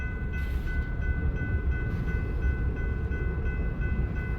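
BNSF freight cars without connected air lines roll loose through a rail yard after coming over the hump, a steady low rumble with faint squealing tones running through it, heard alone at moderate distance.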